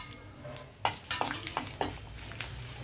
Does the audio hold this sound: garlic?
yes